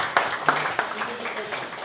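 An audience at a leadership conference in Sydney claps for Miriam. A few sharp, scattered claps ring out close by, mixed with ongoing talk and room murmur.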